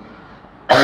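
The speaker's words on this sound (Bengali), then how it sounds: "আমি অসুস্থ ঠান্ডা কাশি হচ্ছে" A single short cough or throat-clear from someone sick with a cold bursts out loud and close at the very end, after near silence.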